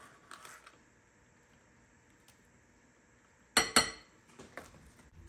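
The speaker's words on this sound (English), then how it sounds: "Before I add the squash flour, I'm gonna stir these up a little bit, beat them up." A fork or whisk beats eggs in a bowl for bread batter, giving a few light clinks and one brief, louder clattering flurry against the bowl, otherwise quiet.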